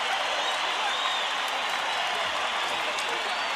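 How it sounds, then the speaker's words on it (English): Steady crowd applause fills an arena at a boxing event as a mariachi band departs before the ring entrances, a dense wash of clapping and cheering heard at an even level throughout. "As the mariachi band departs to thunderous applause."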